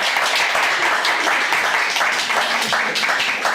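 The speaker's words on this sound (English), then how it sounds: "Let's give another round of applause to Francesca Bell." Audience applause at a book launch in Los Angeles for author Francesca Bell, a dense steady round of clapping from a room of listeners, sustained evenly throughout.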